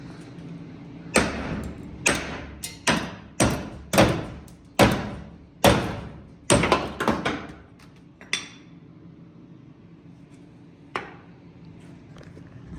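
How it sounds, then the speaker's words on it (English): A series of sharp metallic hammer blows knocking hinges off a 1955 Chevrolet Nomad, irregularly spaced and loud at first, then thinning to a few isolated strikes against a quiet background. "I'm gonna take a hammer and hopefully knock these things off."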